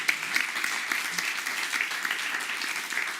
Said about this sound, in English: Let's give him a round of applause for now.